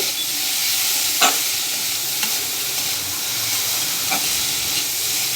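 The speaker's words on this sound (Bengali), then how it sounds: "আর দিয়ে দেবো অল্প একটু হলুদ। দিয়ে ভালো করে একটু ভেজে নেব।" Teasel gourd frying with salt and turmeric in a pan: a steady, close hiss and sizzle of hot oil runs throughout, with a few sharp scraping stirs breaking through at intervals.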